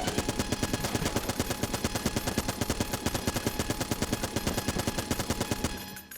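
Rapid automatic gunfire from a powerful gun in a video game, a dense, steady stream of shots rattling on for about six seconds before cutting off abruptly.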